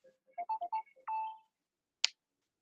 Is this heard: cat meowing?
no